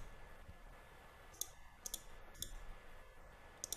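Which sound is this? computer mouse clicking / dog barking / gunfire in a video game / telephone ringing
computer mouse clicking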